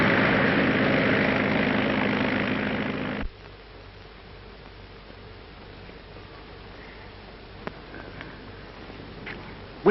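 Loud droning of a propeller plane in the 1933 film Skyway that suddenly cuts off, leaving a quieter low rumble with a few faint clicks.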